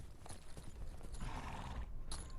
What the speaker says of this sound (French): Ce vieux cheval est connu de tous les cavaliers.